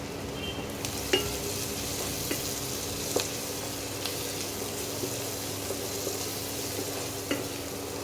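Kashmiri red chili powder fries in hot oil with a steady, even sizzle, while a spoon clinks against the pan now and then.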